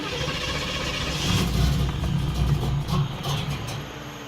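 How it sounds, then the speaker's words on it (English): A custom Pontiac Trans Am engine, missing its cold start injector, runs with a rough, steady rumble and a slight swell partway through, loud and close with no voices. "we'll go ahead and start this car up"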